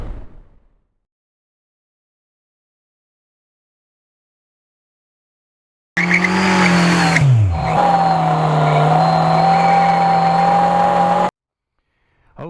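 Honda ADV 350 scooter accelerating at full throttle, a loud engine drone that suddenly starts, dips briefly, then holds a steady climbing tone for several seconds before cutting off, with silence around it.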